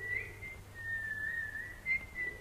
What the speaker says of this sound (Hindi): ये सीटी की आवाज, इसे डर लगता है।